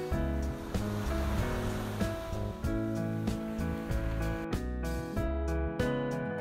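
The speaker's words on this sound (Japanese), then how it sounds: "ざーっと押し寄せる波。" Ocean waves rush and wash onto a white-sand beach on Tanegashima, a steady close surf with rolling swells, accompanied by background music.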